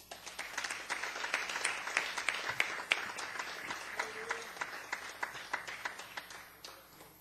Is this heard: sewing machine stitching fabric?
no